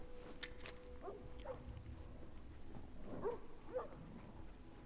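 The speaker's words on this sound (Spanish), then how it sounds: "Los perros aún están jugando." Dogs playing in the video game The Last of Us give a few faint yips and whimpers, heard as short scattered cries against a quiet background hum.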